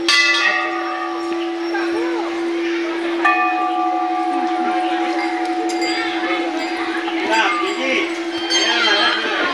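Large temple bells ringing at Maa Ghanteswari temple in Sambalpur, sustained metallic clangs with a long ringing hum, repeated strikes layered over a busy crowd murmur and people talking nearby.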